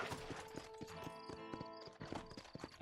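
Horse hooves clip-clop steadily in the Wild West video game Red Dead Redemption, a rhythmic run of close, even hoofbeats over a busy bed of game music and ambience.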